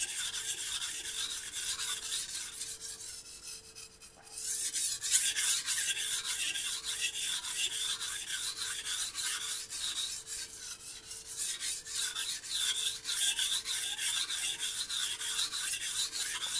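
A steel blade rubs in steady, rhythmic strokes across a Shan Zu 3000/8000 whetstone, a close, gritty rasping that continues with only a brief pause and no talk.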